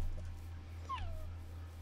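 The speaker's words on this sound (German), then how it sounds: "Ich habe so viele kleine Hunde jetzt" A tamed dog in the Minecraft video game gives a single short falling whimper, faint and brief over a constant low hum, with no speech.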